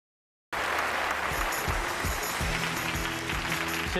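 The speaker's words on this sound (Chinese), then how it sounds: "再次掌声感谢陈院士带给我们的精彩开讲" An audience claps steadily after an academic's televised lecture, sustained dense applause beginning abruptly and continuing loud and even, with a few louder low thumps scattered through it.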